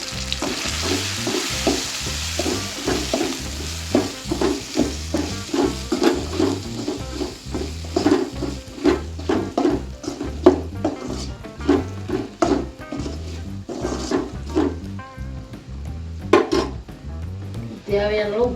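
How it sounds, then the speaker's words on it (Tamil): Steady sizzling and frying of spices with salt, asafoetida and turmeric in a pan for raw mango pachadi, with rhythmic stirring scrapes, close and continuous throughout. "உப்பு சேர்த்து நல்லா வதக்குங்க."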